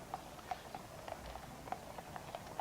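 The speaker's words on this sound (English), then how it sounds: "a police horse called Blaze" A police horse's hooves clip-clop at Trooping the Colour on Horse Guards Parade, a faint, irregular series of light hoof strikes heard from a distance.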